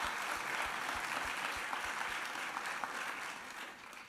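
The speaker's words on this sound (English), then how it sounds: "Give yourselves a round of applause" A convocation crowd applauds and cheers, a dense wash of clapping from many people that stays loud for a few seconds and then begins to fade.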